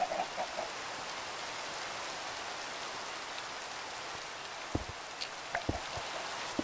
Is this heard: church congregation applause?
no